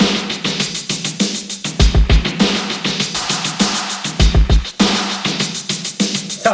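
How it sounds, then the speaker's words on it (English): Snare drum hits treated with a stock Logic echo at low wetness, in a modern rock and hip hop beat, repeat in a steady loop alongside booming kick drums and a dense backing mix, with no voices. "I'll throw some echo on this, turn the wetness way down just with this stock Logic echo"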